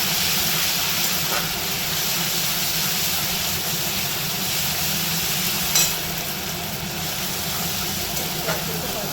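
Garlic paste frying with browned onion in a pan, a steady loud sizzle and hiss holding throughout with a faint scrape near the end.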